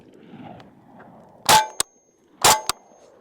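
5.7x28 Black Dragon rounds fired at level 3A soft body armor: two sharp, loud gunshots about a second apart, each followed by a quick metallic clang, after faint background murmur.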